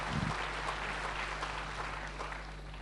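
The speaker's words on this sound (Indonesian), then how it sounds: "Berikan tepuk tangannya." Congregation applause at a church sermon, a dense wash of clapping at moderate distance over a steady low hum, continuing through the clip without speech.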